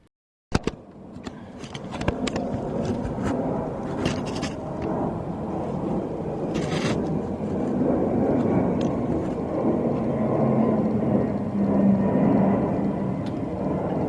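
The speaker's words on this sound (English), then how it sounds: "There's a 747 landing" Boeing 747 on landing approach to JFK, a loud, steady jet roar that swells gradually and holds throughout, with some wind noise on the microphone.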